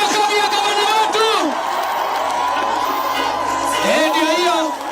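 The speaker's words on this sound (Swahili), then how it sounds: "tunaomba tupatie kama na nafasi kidogo ndio hiyo karibu sana gavana wapi makofi ya gavana wetu" A crowd welcoming a governor cheers loudly and steadily, with shrill whoops and shouting voices rising over the noise throughout.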